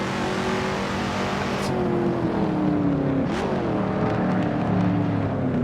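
Shelby Cobra 427 S/C V8 engine in the Assetto Corsa racing game, a steady loud drone with rising and falling pitch during a lap, alone without talk.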